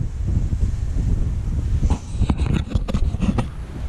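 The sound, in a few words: strong wind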